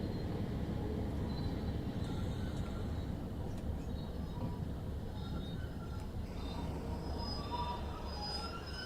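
Train in regional railways livery on the West Cornwall local route in Train Sim World 3, a steady low rumble with faint squeals and hisses and soft chimes, continuous and fairly loud.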